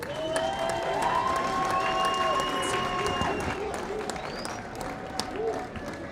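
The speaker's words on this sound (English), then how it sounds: "I'd like you to give them a round of applause" A crowd at a rugby club event applauds players who have long represented Alberton Rugby Club, a broad steady clapping under a loudspeaker or music tone and some voices, fairly loud and continuous.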